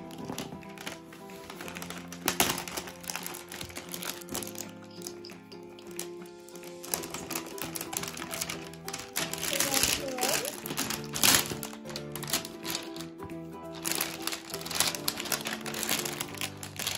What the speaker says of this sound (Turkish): Kutumuzu açıyoruz.